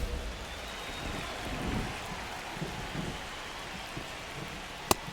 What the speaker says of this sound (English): Fenway Park in Boston, and it's raining